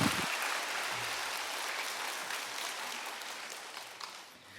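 A church congregation applauds at a Wednesday worship service, steady broadband clapping that holds at a moderate level throughout and fades slightly near the end.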